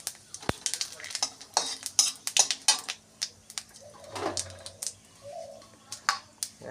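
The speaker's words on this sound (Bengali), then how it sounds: "আলু ফুলকপির দম করতে ফোড়ন দেব, জিরে ফোড়ন" Cumin seeds and bay leaf tempering in hot oil for an aloo phulkopi dum, with soft crackling sizzle under sharp utensil taps and clinks against the pan, close and irregular.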